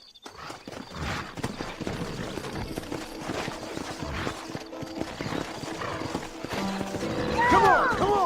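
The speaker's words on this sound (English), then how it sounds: "Horses are over here!" Hooves clatter rhythmically as horses gallop in Red Dead Redemption, with shouting voices in the background and a loud horse whinny near the end.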